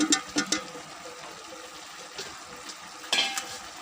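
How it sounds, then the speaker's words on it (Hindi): Potatoes added to already-fried chicken sizzle in a pot, with a few quick stirring scrapes at the start and again near the end over a faint steady frying hiss. "आलू डाल के आलूओं को भी अच्छी तरह से पहले फ्राई करेंगे।"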